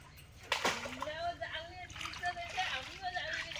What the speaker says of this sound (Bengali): ওদিক থেকে মাছ একদম উপরে পুরো লাফাচ্ছে